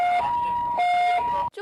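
An ambulance siren wails in a two-tone hi-lo pattern, alternating pitch roughly every half second, loud and close, at a house in Shetou, Changhua, before cutting off abruptly.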